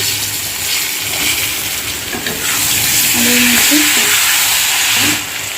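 Turmeric and tomatoes frying in a pan for a thin potato and fish curry, a loud continuous sizzle and crackle up close that swells slightly midway, with faint stirring and no talk.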